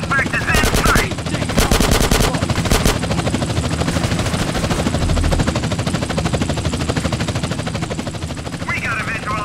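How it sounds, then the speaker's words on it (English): A police helicopter in GTA San Andreas with bursts of machine-gun fire: rapid clattering volleys early on over a constant rotor drone and game noise, with a voice talking in the middle. "This is chopper support. Suspect is in sight."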